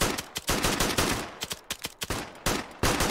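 Rapid rifle fire from the player's gun in a military shooter, loud close bursts of automatic shots with short pauses between strings, no talking.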